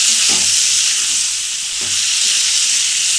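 Taro (kochu) curry sautéing in a pan, a loud steady sizzle and hiss of frying with two soft stirring scrapes, close up and without talk.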